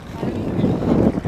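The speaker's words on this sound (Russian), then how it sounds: "Прям прохладный такой ветерок." Sea wind gusts against the microphone on a Spanish coastal walk near a beach and golf courses, producing a steady low rumbling buffet that swells and dips throughout.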